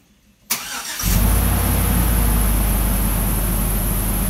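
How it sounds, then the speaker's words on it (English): A 1999-2006 Chevy Tahoe started with a Viper 5305 remote start: a brief cranking burst, then the engine catches and settles into a loud, steady idle up close. "we hit the orange button one time, flashes the lights, and crank the engine."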